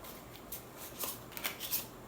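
Playing cards from a real pack are counted out by hand, giving several soft papery flicks and slides, close and quiet, with no one talking.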